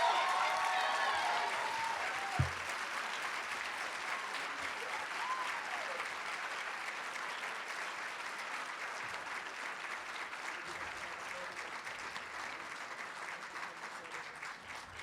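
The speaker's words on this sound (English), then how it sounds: "Another round of applause for all of our scholarship recipients." An audience at a scholarship award ceremony gives sustained applause for a recipient, an even wash of many hands clapping with a brief musical tone at the start.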